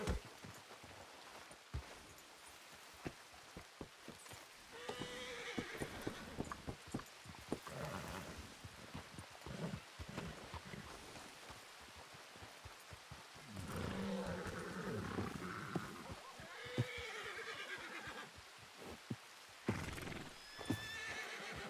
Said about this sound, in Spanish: El caballo de Alex no se deja dar, ¿eh?